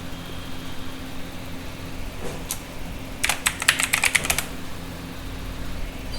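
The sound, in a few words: typing password on computer keyboard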